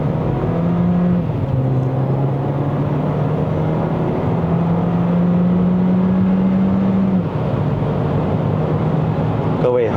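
A 2025 Proton X50 1.5 turbo flagship accelerating on a test drive in Malaysia, with a steady engine drone that rises in pitch and then drops as it shifts up, heard from inside the cabin with continuous road noise.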